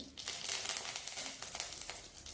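Mustard seeds, cumin and curry leaves crackle in hot oil while a Vidarbha-style yogurt kadhi is made, giving a steady, busy spitting hiss with small pops throughout and no talking.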